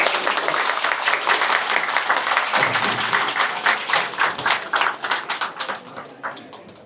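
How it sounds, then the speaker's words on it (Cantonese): An audience at a toy and model festival signing event applauds for a teacher. The clapping is brisk and fairly loud, then thins into scattered, separate claps as it fades toward the end. "俾啲掌聲老師。"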